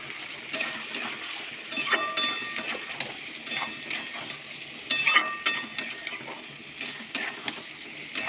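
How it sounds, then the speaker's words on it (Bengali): Spice masala being stirred and fried in a pan at home, soft crackling sizzle with intermittent spatula clinks and scrapes against the pan, close but fairly quiet, no talking. "আর দেখুন এটা ভালো করে আমি কষিয়ে নিচ্ছি।"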